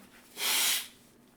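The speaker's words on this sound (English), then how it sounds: "I just needed to sneeze." A single sharp, breathy burst like a sneeze or snort, brief and close, rising out of quiet room noise.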